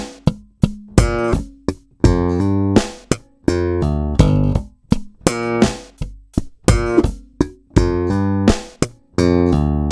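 Slap bass guitar plays a full bar of a stomp-style slap line: punchy, percussive thumped and popped notes in a quick syncopated rhythm, close and loud, with no talking.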